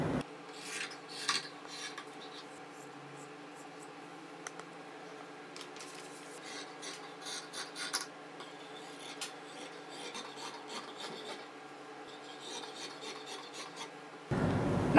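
Scissors cut through churidar fabric along a drafted pattern line, producing a long run of quiet, repeated snips and rasping blade strokes up close, with no talk.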